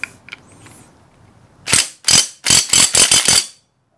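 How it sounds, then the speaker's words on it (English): Pneumatic impact gun hammering on the clutch basket nut of a KLX140 motorcycle during clutch plate removal, a short burst followed by six rapid loud rattling bursts close by, then silence. "I'm gonna try to see if I can get it out with the impact gun."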